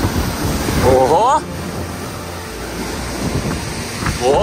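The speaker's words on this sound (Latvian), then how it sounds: "šitie ir viļņi riktīgie" Ocean surf rolling ashore with a steady wash under strong wind noise, the waves continuous rather than distinct, and a short burst of birdlike or voice sounds early on.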